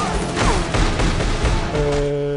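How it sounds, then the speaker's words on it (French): A movie gunfight between Marcus and his opponents in Bad Boys 3 brings loud, rapid bursts of gunfire and sharp cracks that overlap in a chaotic volley before a tonal hum rises at the end. "ils sont pas un peu pourris les effets spéciaux sur les coups de feu là?"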